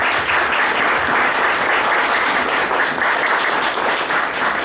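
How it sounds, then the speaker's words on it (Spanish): Loud, sustained audience applause at a book presentation for cultural promoter Alberto Calderón, a thick wash of many hands clapping at once without a break. "para quien pida un aplauso"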